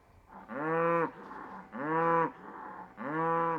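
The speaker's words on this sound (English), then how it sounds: "In a chorus of moos, Kevin's performance receives a regular bovi" Cattle on a Texas cattle ranch mooing three times in a row, long drawn-out lowing calls with short pauses between, close and clear with no talk.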